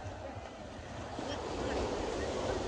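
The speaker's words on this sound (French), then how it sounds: "chaque fois qu'il y a la vague, ils avancent" Waves breaking on a beach at a holiday seaside spot, a steady broadband wash that swells slightly louder toward the end, with wind buffeting the microphone and faint voices nearby.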